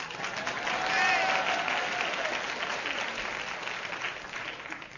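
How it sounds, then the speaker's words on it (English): Studio audience applause during a recording of The Goon Show radio comedy, a dense, steady wash of clapping that swells early and then slowly fades, with no one speaking over it. "Poses for audience applause"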